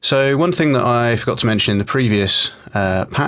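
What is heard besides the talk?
None of the usual background noises is heard.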